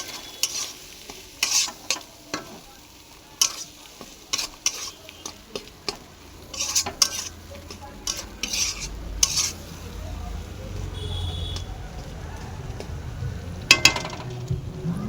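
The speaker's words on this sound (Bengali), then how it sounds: "মশলাটা একটু ভাজা ভাজা হবে।" Ground spices with turmeric fry in a pan, a spoon scraping and stirring in repeated sharp strokes over a quiet sizzle that grows louder toward the end.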